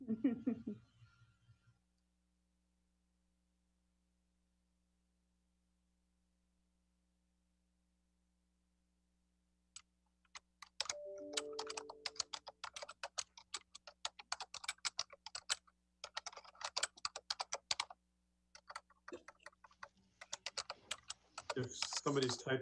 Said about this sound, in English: If somebody's typing, they might want to hit mute.